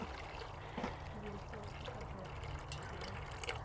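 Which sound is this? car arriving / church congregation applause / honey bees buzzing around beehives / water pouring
water pouring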